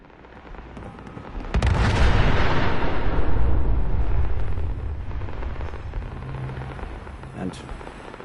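A signal flare fires in Fallout 4 with a sudden launch, then a loud sustained roaring whoosh that swells for a few seconds and slowly fades, followed by a faint trailing crackle.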